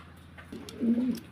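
A pigeon gives a low, soft coo, one short rolling call close by with no voices around it.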